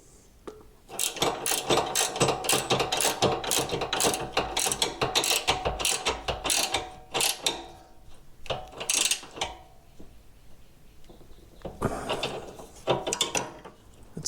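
A 21 mm socket on a ratchet wrench tightens a nut on a Harbor Freight generator wheel kit, giving rapid bursts of ratchet clicking in several runs with short pauses, close and loud.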